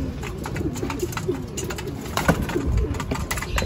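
A racing pigeon cooing at its loft on arrival from a training flight out of Cuyapo, Nueva Ecija: repeated soft, close throaty coos over a low outdoor background, with no talking.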